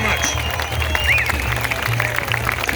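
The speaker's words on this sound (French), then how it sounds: "Hey, une bonne main d'applaudissement!" Crowd applause at a political speech in Ottawa: a steady, dense wash of clapping with a low hum underneath, lasting the whole moment without a break.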